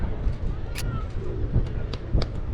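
Pigeons coo softly over a steady outdoor background hum in Amsterdam, with a few short calls spaced through the moment.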